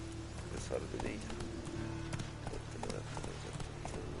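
Roach, the horse in The Witcher 3, gallops in quick rhythmic clip-clop hoofbeats under game sounds and a voice speaking over the action.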